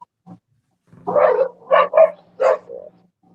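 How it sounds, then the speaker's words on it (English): A small dog barks in a short burst of four or five sharp, close yaps, heard alone against an otherwise quiet background. "A small dog attacked right there at the very end."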